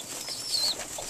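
Young racing pigeons of a second-round batch in a loft make soft, close cooing and rustling over a steady airy background for about a second.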